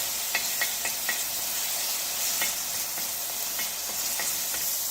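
Garlic ginger paste sizzles steadily in hot oil for dragon chicken, with light scraping and tapping as it is stirred in the pan, close and continuous without voices.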